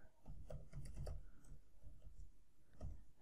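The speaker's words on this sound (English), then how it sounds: "for that I'm gonna type Vue" Fingers tap out a short burst of typing on a computer keyboard, soft quick clicks in small clusters with brief pauses, close but quiet.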